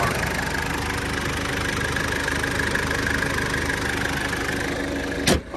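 A 1996 Mitsubishi Delica L400 Chamonix Edition 4x4 diesel idles steadily and quietly, a low even hum throughout with no voices, cut off by a brief click near the end.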